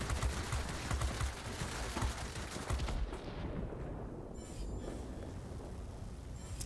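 Aircraft guns firing continuously in World of Warplanes, a dense loud rattling burst for about three seconds that then gives way to a steady engine roar with faint lingering shots.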